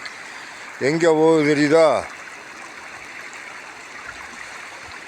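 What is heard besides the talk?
tannery wastewater flowing in a stream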